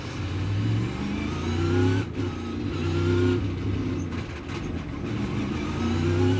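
NASCAR Cup Series stock car pulling out of its pit stall at the Charlotte Roval playoff race, a loud close engine surging and easing in steady waves, with faint high chirps and no talk.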